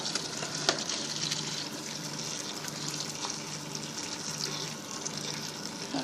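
Boiled water gushes steadily into a pan of curried sausages, a continuous close pour with a bright hiss and slight bubbling throughout.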